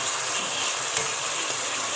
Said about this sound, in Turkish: Tavukları da şöyle yüksek ateşte güzelce soteliyorum.